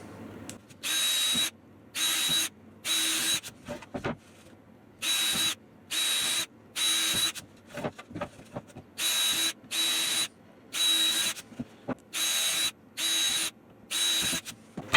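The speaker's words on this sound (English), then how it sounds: "So I've just got a drill that is a little bit smaller than the screws that I'm using." A power drill whirs in repeated short bursts, about a dozen in all, drilling pilot holes in wood, with clicks and handling noises between each run, close by.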